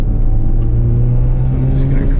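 Mazda RX7 rotary engine cruising steadily, a loud continuous low rumble with a sustained drone and little change in pitch, heard from inside the car.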